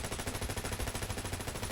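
Rapid automatic fire from the Warlord rifle shot from the hip in Borderlands 3, a dense, steady stream of loud, evenly spaced shots with no talk.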